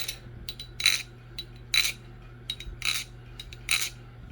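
A folding knife flipped open and shut repeatedly, giving crisp metallic clicks and snaps in an irregular rhythm, close and fairly loud over a low steady hum, with no talking.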